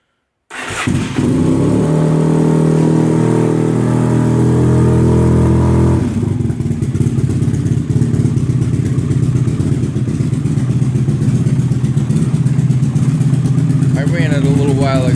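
A 1992 Yamaha TDM 850 motorcycle is started cold with the choke on, then settles into a steady, close idle that runs on without a break. A person talks over it.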